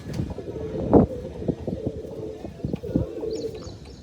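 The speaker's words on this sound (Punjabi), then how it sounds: "ਆਪਾਂ ਹੁਣ ਕਬੂਤਰੀ ਛੱਡੀ ਆ" Soft pigeon coos repeat a few times close by, low and throaty, with faint rustling and light wind around them.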